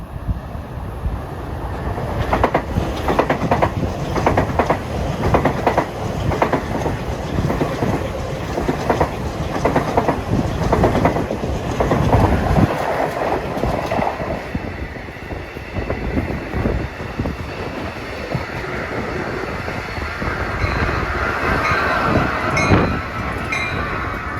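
A Long Island Rail Road commuter train rumbles past Woodside station during the evening rush, a loud continuous roar of wheels and cars sustained for the whole stretch with no voices.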